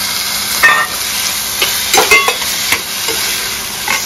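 Masala sautéed in hot oil for a Malvani clam curry sizzles steadily while a spoon stirs it, with several scraping knocks against the pan over a continuous frying hiss.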